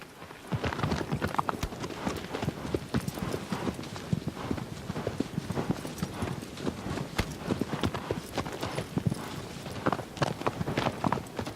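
Hooves of Agro, the horse in the Shadow of the Colossus video game, clip-clop steadily and close for several seconds, a dense, continuous gait with no pause.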